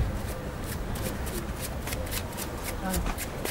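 Playing cards being cut and shuffled during a magic performance, a rapid close riffling flutter of repeated card snaps, with a voice speaking over it.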